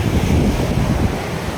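A steady, loud rush of a small waterfall beneath a bridge fills the air, broad and noisy with a windy roar, no voices.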